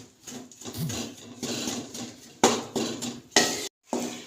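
Flour roasting in ghee in a pan over a low flame for flaxseed pinni, with a spoon scraping and clattering against the metal in an uneven, steady rhythm, close and alone without talk.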